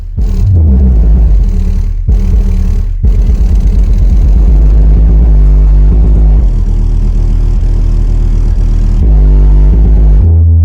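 A track plays at high volume through an old-school Orion 250 HCCA car amplifier, heavy sustained sub-bass with a few brief dropouts, very loud and close.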